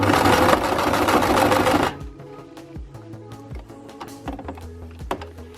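A sewing machine stitches elastic on a scrunchie with a loud, fast run of stitching that stops abruptly after two seconds. Scattered clicks and small handling knocks follow at the machine.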